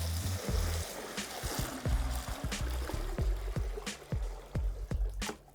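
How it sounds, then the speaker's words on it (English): Lime wash pouring into a 5 gallon bucket, a trickling, splashing liquid stream with a rhythmic series of drips and glugs, moderately quiet and close, with no talk. "Now you can take your lime wash and pour it."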